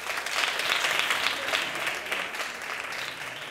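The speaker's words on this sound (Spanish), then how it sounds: "Vamos a darles un aplauso." Sustained audience applause for a team on a Spanish TV quiz show, a dense even wash of clapping that holds steady for several seconds before easing slightly.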